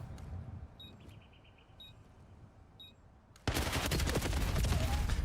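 Automatic gunfire in a Call of Duty League esports match, heard as faint electronic beeps over a low bed that gives way to a sudden, loud, dense burst of sustained shooting lasting to the end.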